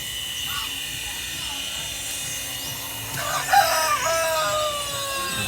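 Geese and chickens in a backyard pen call and cluck in the background under a steady hum, with a louder honk-like burst near the end and a person talking.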